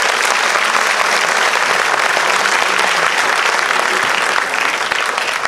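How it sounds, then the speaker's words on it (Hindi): A crowd at a book launch ceremony gives loud, sustained applause, a thick wash of clapping that holds steady for the whole stretch and eases a little near the end. "भाई अब तो तालियां बनती हैं जरूर।"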